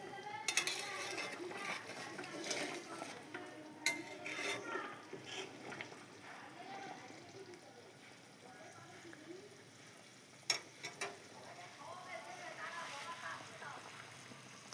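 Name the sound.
stirring boiling meat curry in a pot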